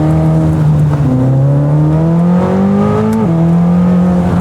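A Corvette C8 ZR1 engine pulls hard on a race track, a loud continuous droning note rising steadily in pitch, then a quick dip at a gear change before climbing again; no voices.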